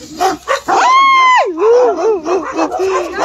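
Nearby dogs give loud barks and a drawn-out whining yelp, with people talking around them.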